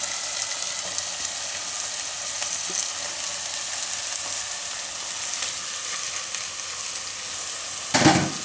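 Fenugreek leaves going into a pan of frying vegetables for a methi, pigeon pea, brinjal and potato curry, giving a steady close sizzle with faint stirring scrapes and a brief louder rustle near the end.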